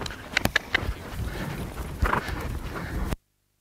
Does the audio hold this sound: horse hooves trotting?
yes